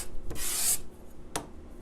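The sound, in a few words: card scraper shaving wood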